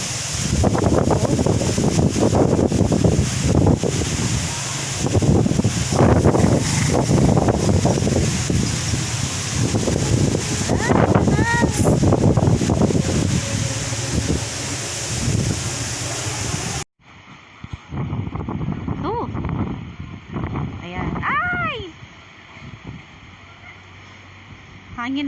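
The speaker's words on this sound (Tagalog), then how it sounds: "ang lakas ng hangin." Strong gusting wind from Typhoon Quinta buffets the microphone in a steady roar, with people talking throughout.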